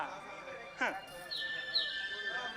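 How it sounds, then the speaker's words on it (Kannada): Faint koel calls ring out, a few clear rising whistles and chirps at a distance, with soft background ambience. "ಕೋಗಿಲೆ ಗಾನ"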